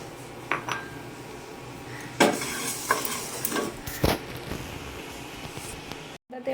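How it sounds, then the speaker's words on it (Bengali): Lentils fry in hot oil in a pan while a utensil stirs and scrapes, a steady soft sizzle under intermittent metallic clinks and scrapes, close and fairly quiet. "ডালটা প্রথমে ভেজে নেব।"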